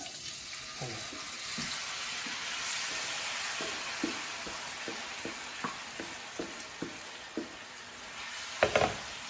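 Chicken pieces frying in hot oil for honey chilli chicken, stirred with a wooden spoon: a steady hiss with a regular run of soft knocks and scrapes from the spoon, ending in a couple of sharper clatters.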